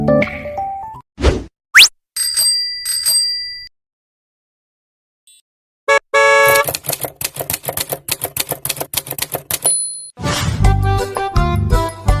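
A string of sound effects in a Thai lottery-results broadcast: typewriter-like clacks, a rising boing, and bright dings and chimes, broken by a pause and followed by rapid clattering taps with ringing bell tones.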